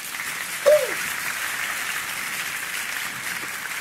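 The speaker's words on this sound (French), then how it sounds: "on va quand même demander un applaudissement" An audience applauds in a continuous, even wash of clapping, with a brief higher vocal sound near the start.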